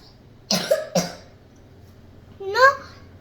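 A young girl coughs twice, close to the mic, then gives a short voiced throat sound.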